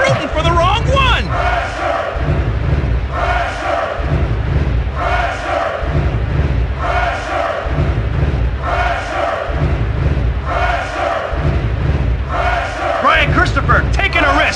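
A large wrestling crowd in the PS1 video game WWF Attitude roars and cheers continuously, loud and dense, with rhythmic swells and a voice briefly audible over the din.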